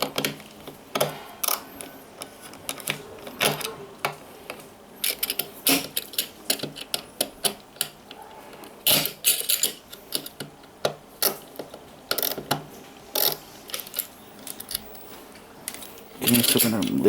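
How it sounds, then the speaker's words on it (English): Small bolts are worked loose from an opened hard drive, giving scattered close metallic ticks, clicks and scrapes in irregular bursts, with a brief louder rattle near the end. "So we're gonna remove all the bolts."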